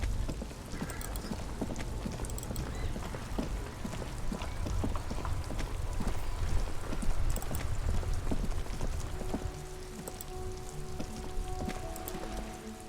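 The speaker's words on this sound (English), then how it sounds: "All around you, rain falls on the great city Ravishal." Steady rain falls over a great city in the Disco Elysium video game, a dense continuous patter with scattered sharper drips and splashes, moderately loud and without speech.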